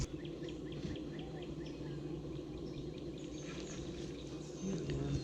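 Honeybees at a beehive during the release of a new queen, a soft continuous low buzz from the colony with faint bird chirps in the background, quiet and steady throughout.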